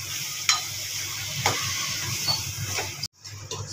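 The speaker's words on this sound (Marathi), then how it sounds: "सोयाबीन मध्ये चांगलं परतून घेत आहे" Soybeans with a paste of onion, coconut, garlic and ginger stir-fried in a pan, a steady close sizzle with scraping strokes of a spatula about once a second, then a brief silent break before the frying hiss resumes.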